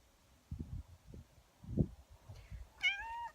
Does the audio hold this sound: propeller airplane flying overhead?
no